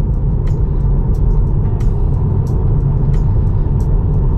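A Tesla rolls along on autopilot with steady, loud low road and tyre rumble, dotted with faint brief ticks and clicks inside the cabin.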